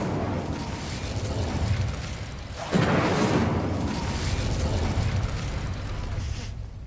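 A fire spell cast in Hogwarts Legacy erupts with a sudden whooshing burst of flame about midway, then a sustained roar that slowly fades over a low, steady game ambience.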